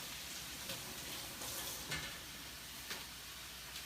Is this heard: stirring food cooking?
yes